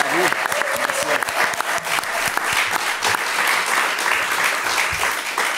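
A podcast audience gives the guest Bob Morlon a round of applause, steady, dense clapping that carries on close and loud for several seconds with faint voices underneath.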